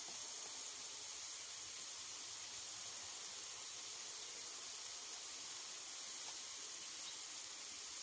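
Steady, even hiss of beans stir-fried with oyster sauce in a hot pan, a continuous sizzle with no breaks and no voices.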